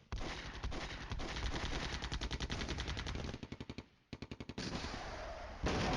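Loud rapid automatic helicopter cannon fire in the video game Flashpoint Campaigns: Cold War rattles in long continuous bursts, breaks off briefly, then returns in a few quick stuttering volleys.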